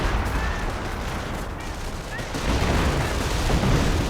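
Artillery fires away in a real-time strategy game with howitzers and infantry, a dense continuous rumble of distant blasts and gunfire filling the whole stretch, with a voice talking over it.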